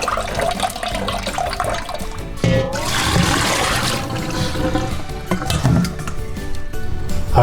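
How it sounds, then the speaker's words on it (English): Water pours and splashes out of a bowl of soaked rice as it is lifted and drained, with some clinks from the container and loud, close sloshing. "Lift that up and then just drain the water."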